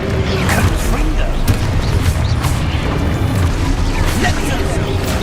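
Confringo fire spell explosions in Hogwarts Legacy, a steady dense stream of booming blasts and crashing impacts layered with game effects, loud and continuous throughout.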